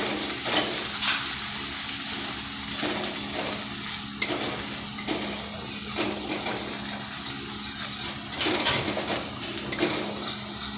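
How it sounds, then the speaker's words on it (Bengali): Turmeric, cumin and coriander powder fry in a pan for flattened-rice pulao, with a continuous sizzle and repeated scraping stirs of a spoon at an irregular pace, close and fairly loud. "এটাকে একটু ভালো করে কষিয়ে নেব"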